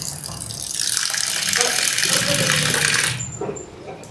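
Water poured onto soaking sabudana (tapioca pearls) in a home kitchen, a steady splashing gush for about three seconds that then tapers off, close and fairly loud.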